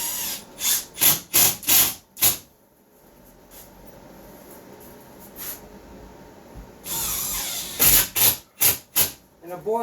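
Power drill driving screws into sheetrock on a workshop ceiling during a demolition and rebuild: a run of short, loud bursts, then a steadier whine, then another rapid series of close, sharp bursts.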